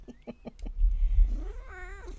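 A pet cat meows several times up close, a few short calls followed by a longer, rising and wavering meow, with some low rumbling handling noise in the background.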